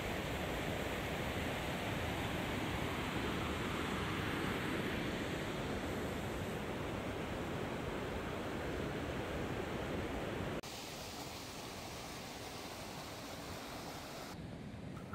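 A mountain river rushes near Himalayan peaks and hills, producing a dense, steady broadband roar with no pauses. A slight drop in level occurs partway through, and no voices are heard.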